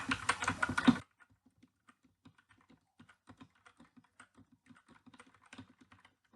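HK Gaming GK61 mechanical keyboard with red switches being typed on, soft irregular keystroke clicks, close but quiet, alone after a brief bit of talk at the start.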